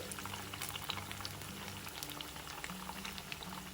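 Semiya bondas deep-frying in hot oil until crisp, a steady bubbling sizzle with fine crackling pops, close and continuous with no talk.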